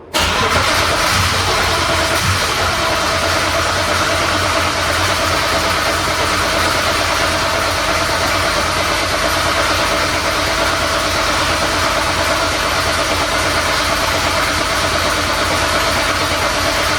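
A BMW E36 328i engine cranks and fires right at the start, then settles into a steady, loud idle that runs on close and unbroken with no talking.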